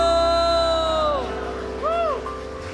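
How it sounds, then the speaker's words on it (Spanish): Church congregation cheering, with loud sliding whoops and shouts over a crowd murmur, one long cry falling away followed by a second shorter rising-and-falling whoop. "Vamos a darle ese fuerte aplauso a Cristo, iglesia."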